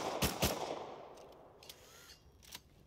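Gunfire in the survival game Rust during a fight at a sulfur quarry: two sharp, loud shots close together, then a few fainter, more distant pops against a low background rumble.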